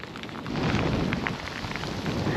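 Heavy rain pours down during a brutal storm at a chalk stream, a dense, loud hiss of drops that steadily fills the clip, with no talking.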